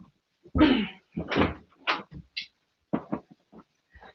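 A bedroom door is opened with a few close, hard knocks and creaking rattles in quick bursts, followed by softer, sparse clicks as it settles.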